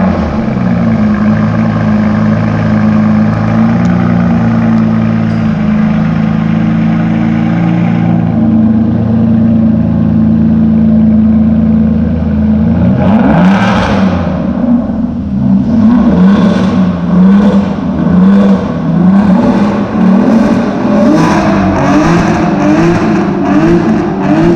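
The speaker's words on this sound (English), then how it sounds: "So now we'll head to the rear to hear the startup of this car." An Aston Martin Rapide V12 starts up and idles with a deep, steady rumble, then revs repeatedly in sharp rising bursts, heard loud and close from the rear of the car.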